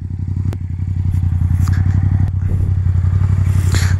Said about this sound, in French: C'est une moto qui a de la gueule. C'est une moto qui a un joli son.